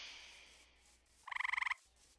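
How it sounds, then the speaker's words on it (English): A dart frog in Minecraft gives a single rapid pulsed croak, a close, clear trill of about ten quick beats, with no talk. "Oh, hello, dart frog."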